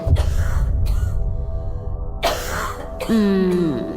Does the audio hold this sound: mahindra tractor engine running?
no